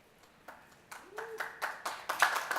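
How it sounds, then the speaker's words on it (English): A debate-chamber audience starts clapping, a few isolated claps first that build into denser, louder applause, with faint background voices. "Big round of applause."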